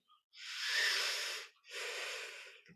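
Two long, slow breaths, an inhale then an exhale, come close and clear with a slight wheeze while a plank pose is held in yoga, with a short gap between them.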